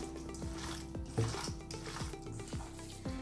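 Minced meat with onion and a splash of water being worked together for chebureki, giving rhythmic wet squelching strokes roughly every half second, close up and steady, with no voices.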